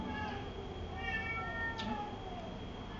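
At a church gathering, a child meows like a cat, a voice imitating the sound, giving several faint, wavering meow-like calls over a steady, noisy room background.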